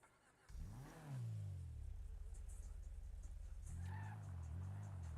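A car engine in a racing video game revs up from idle, its pitch sweeping upward and settling into a steady drone, then climbing again in a second rise near the end, loud and continuous with no talk.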